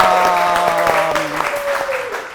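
Studio audience applause on a comedy talk show, a steady wash of clapping under a sustained tonal music or voice line, with someone speaking briefly over it.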